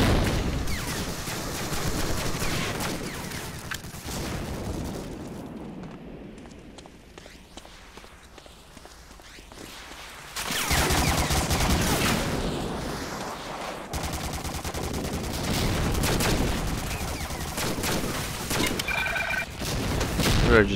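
Machine gun fire in the Medal of Honor Allied Assault video game comes through as loud bursts of rapid shots, dense and sustained across most of the stretch, dropping briefly in the middle before resuming.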